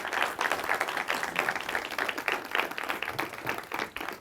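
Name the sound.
audience applause welcoming lecturer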